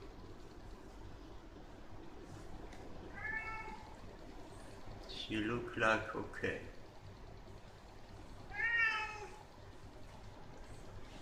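A big male cat meows a few times, soft and fairly close, while a person talks quietly over low background hum.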